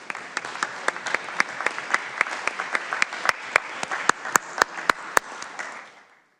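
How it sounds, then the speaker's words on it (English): Applause from legislators in the Illinois House chamber in Springfield: a steady patter of many hands with sharp individual claps standing out near, fading out at the end. "Can we give them a round of applause, please?"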